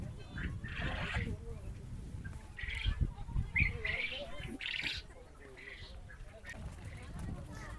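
Birds at a resort, including quail and Kadaknath chickens, give repeated short chirps and calls at a moderate distance under people talking.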